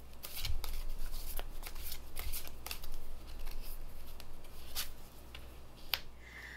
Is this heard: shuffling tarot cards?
yes